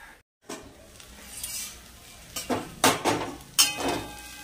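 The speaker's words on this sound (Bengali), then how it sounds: "এবার আমি আরেকটু ঢাকা দিয়ে দেবো।" A lid goes onto a cooking pot of pea greens with shol fish head: a few metallic clanks and scrapes, close and fairly loud, over a faint sizzle.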